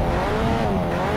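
Car engine in the Fortnite video game revving steadily and loudly, a continuous droning rev that holds without a break and with no one talking.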